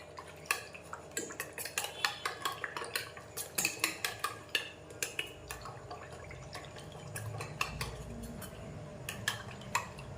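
A spoon clinks and scrapes against a bowl while rice-flour batter is stirred and mixed for a Bengali snack, giving irregular rapid taps up close, thinning into softer wet swishing toward the end.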